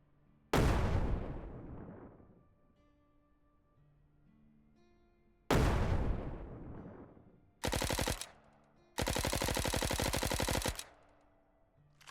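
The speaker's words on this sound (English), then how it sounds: "One grenade after another, all landing in the same area." Grenades burst one after another in the zombie survival game SurrounDead, two loud booming explosions with long decaying rumbles, then sharp rapid gunfire bursts, heard alone.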